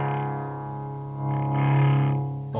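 An electric guitar is played through a DSM Humboldt Simplifier pedal set for heavy saturation, giving a sustained distorted chord that swells midway and then fades, with no talking.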